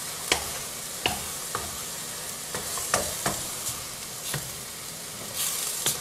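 Cauliflower fried rice stir-fries in a hot pan with soy sauce, a constant sizzle broken by repeated sharp clacks and scrapes of a utensil against the pan at an uneven rhythm.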